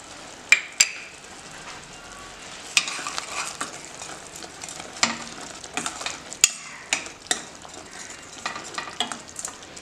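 Coriander powder and chili powder being stirred into an aloo matar kurma curry in a pan: a steady low sizzle under repeated sharp scrapes and clinks of a spoon against the pan, close and without talk.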